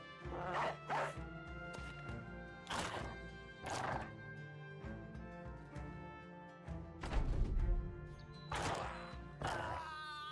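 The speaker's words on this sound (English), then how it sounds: "Thinking unleashing the hounds makes a lot of sense." Hounds barking and snarling while attacking in the video game Battle Brothers, several sharp bursts at irregular intervals over battle noise, loud and close, with no talk.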